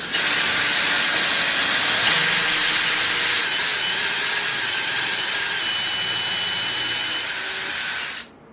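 A drill driven through a Milescraft drill guide bores into round wood at a 45-degree angle, giving a loud, sustained, grinding whir with scraping texture that holds steady for several seconds before winding down and stopping.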